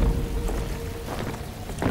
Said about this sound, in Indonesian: Entah mengapa, selalu turun hujan setiap aku menjalankan misi.